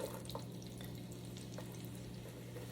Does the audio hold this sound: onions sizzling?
yes